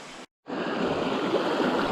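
Creek water flowing steadily along a small stream, a broad continuous rush heard close by, briefly cut to silence near the start before resuming.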